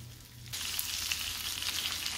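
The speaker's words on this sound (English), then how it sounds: "we're gonna let these cook until they get nice and golden on one side" Breaded chicken parmesan slider patties sizzle steadily in a pan over medium-low heat, a dense close frying hiss that starts abruptly and holds constant with no voices.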